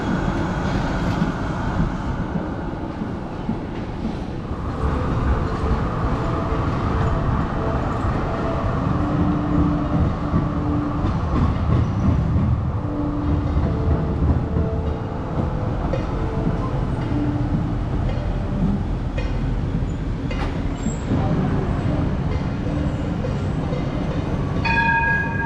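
A high-floor Melbourne tram runs along rails with a steady rumbling roll and some squealing, screeching tones, heard from on board at a loud, continuous level without speech.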